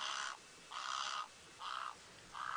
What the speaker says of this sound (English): Oh, here comes a heron, Manu.